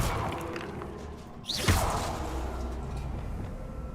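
A fire spell cast in Hogwarts Legacy, a single sharp whooshing burst with a thudding impact that rises suddenly and then trails off into a lingering roar over steady game ambience.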